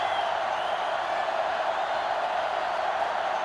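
Steady roaring stadium crowd in an NCAA Football 2005 video game, a loud continuous wash of cheering noise with no breaks, filling the whole stretch.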